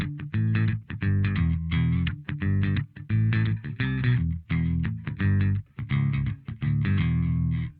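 Bass guitar played through an octave effect on an XSONIC XTONE interface running Bias FX, in a traditional PJ tone, a deep doubled line of plucked notes with thick low sustain, steady and upfront.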